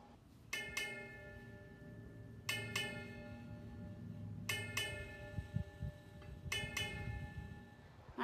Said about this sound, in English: these really ring, especially if I play them near the bottom here